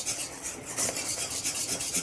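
A spoon steadily stirring a thickening puran mixture of cooked lentils and jaggery in a pan, a continuous close rasping scrape with a soft regular rhythm and no talking.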